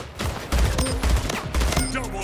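Sniper rifle fire in a free first-person shooter game, several sharp loud shots in quick succession over busy game noise and a faint voice.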